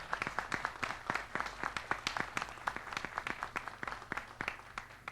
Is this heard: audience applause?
yes